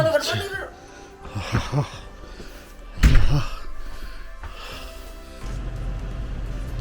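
A hotel room door in snowy Breckenridge, Colorado is handled and opened, with a dull thunk and latch knock amid rustling and people talking nearby.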